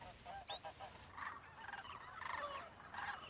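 Young Canada geese honk and call in short, irregular bursts, faint and somewhat distant, with no talk over them.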